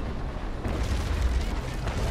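Heavy ship cannon broadside from a sailing warship in a naval battle game, a low rolling boom that swells after a short pause and rumbles on with layered blasts at moderate distance.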